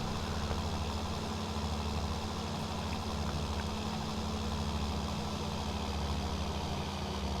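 Tractor engine in Farming Simulator 19 driving a mower through its PTO at high RPM, a steady low droning hum that holds constant throughout with no talk.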